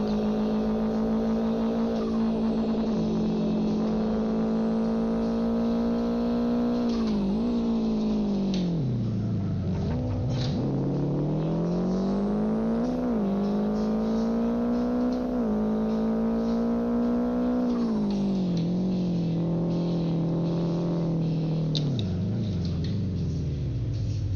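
Racing car engine in the video game Live for Speed, a loud continuous droning whine that rises and falls steadily through gear changes over a long stretch, with no voices.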